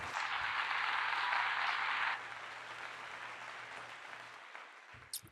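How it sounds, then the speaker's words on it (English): A round of applause from an audience, moderately loud for the first two seconds, then thinning and fading into quieter scattered clapping with a low steady hum beneath. "Round of applause for that."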